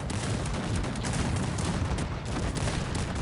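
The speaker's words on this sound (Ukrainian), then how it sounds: "який залп гарний був щойно від е, Кета" Dense artillery volley in the video game Cossacks 3, a thick continuous roar of overlapping cannon and gunfire blasts from a howitzer battery, sustained and loud with no pauses throughout.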